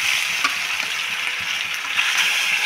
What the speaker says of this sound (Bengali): তেলটা গরম হয়ে গেছে, এখন আমি এই যে মাছে যে নুন আর গোলমরিচ মাখিয়ে রেখেছিলাম এগুলো ভেজে নেব